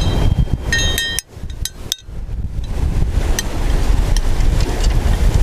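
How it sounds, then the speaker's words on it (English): Gusty wind buffeting the microphone at a rocky Hawaiian shoreline fishing spot, loud and rough throughout with a brief lull near the start, plus a few light clinks of gear. "The wind is picking up a little bit."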